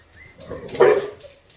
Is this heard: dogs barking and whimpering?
yes